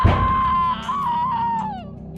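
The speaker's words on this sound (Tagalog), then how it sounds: "dahil sa matinis na sigaw ng babae" A woman's shrill, sustained scream rings out alone in a Filipino aswang horror audio drama, loud and wavering for about two seconds before trailing off.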